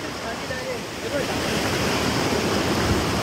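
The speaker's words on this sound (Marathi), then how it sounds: "हा बघा पाण्याचा किती फ्लो आहे बघा जोराचा" A strong, fast-flowing forest stream rushing loudly and continuously nearby, with a broad roar of moving water filling the whole clip.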